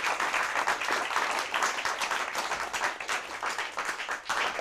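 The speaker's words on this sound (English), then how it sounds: "A round of applause for our competitors." An audience claps for the competitors at a math championship, a sustained patter of many hands at even volume with small flutters in intensity, no voices over it.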